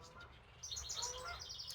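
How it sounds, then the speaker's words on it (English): A house wren sings a faint, rapid bubbling chatter of high notes from a short distance, quiet against low background hum. "the bird you hear over in the side to me is a house wren"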